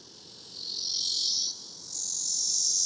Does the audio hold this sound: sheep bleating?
no